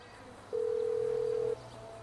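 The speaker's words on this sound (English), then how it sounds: "I thought maybe we need to call this number at 1917 in game time" A telephone line in the GTA 5 video game, calling a number: a steady, sustained dial tone lasting about a second, loud and clear over a quiet background hum.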